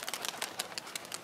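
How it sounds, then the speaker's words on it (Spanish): A pigeon set loose at a car wash beats its wings in a quick series of soft, fluttering bursts as it flies off, faint and fairly close. "Va, se soltó la paloma ahí."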